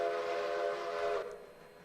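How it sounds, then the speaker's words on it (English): A locomotive in the Minecraft railroading game sounds a steady, sustained horn-like tone over rumbling track noise, loud and close, cutting off abruptly just past halfway and leaving a quieter running hum. "No, that's my train coming out of that track."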